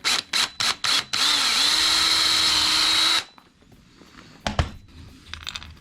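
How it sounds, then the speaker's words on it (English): A power drill buzzes in several short bursts, then runs steadily for about two seconds before stopping, followed by faint clicks and handling noises. "Drill up."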